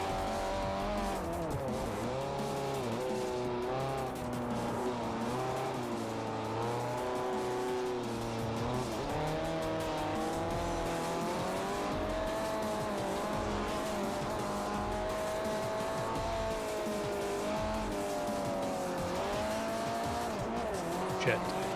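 Race car in Forza Motorsport 4 driving fast with ABS off, engine whining steadily through rising and falling gear changes, with occasional tire squeal, continuous and loud throughout under a voice talking.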